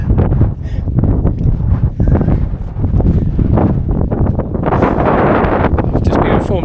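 Wind gusts across an Iron Age hillfort on open chalk downland at Old Winchester Hill, buffeting the microphone loudly and continuously throughout, with muffled talk faintly underneath.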